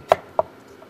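A knife cuts food into uniform planks on a cutting board for a turkey and stuffing dish, giving two sharp, close chops about 0.3 seconds apart, then quiet.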